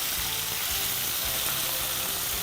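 Tomatoes sautéing in a pan for a spicy potato dish give a steady, close sizzle of frying with low crackle and faint stirring throughout, no voices.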